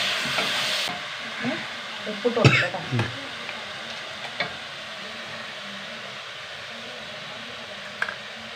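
Spoon stirring a beef mixture in a hot pan, scraping clatters and sizzling over a continuous frying hiss, with a few sharper knocks near the middle and end.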